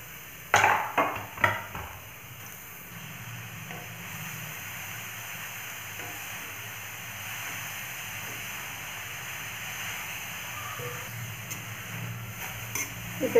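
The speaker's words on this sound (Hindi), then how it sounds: "यहाँ पर मैंने गैस पर कढ़ाई गरम कर ली है, इसमें हम डालेंगे हमारा कद्दूकस किया हुआ गाजर।" Grated carrot dropping into a hot kadhai on a gas stove and starting to sauté for gajar halwa, a few sharp clatters early on, then a soft steady sizzle with occasional light stirring scrapes.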